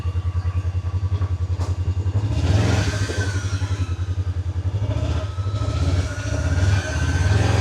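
A ranch vehicle's engine idles steadily close by with a strong, pulsing low throb, rising in a couple of brief revs over the steady chugging rhythm.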